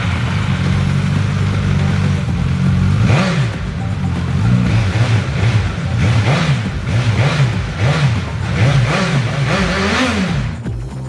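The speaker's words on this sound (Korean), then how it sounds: "슝 하는 요 전기차 같은 엔진음이 배기음과 섞여 들리는데 이게 굉장히 매력적이었습니다" A Suzuki GSX-S1000GT sport-touring motorcycle revs repeatedly, its engine whine blending with the exhaust note in a steady series of rising and falling throttle blips, loud and close, with a constant low drone underneath.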